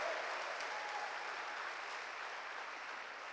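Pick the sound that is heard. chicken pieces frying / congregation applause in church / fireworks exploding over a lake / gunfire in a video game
congregation applause in church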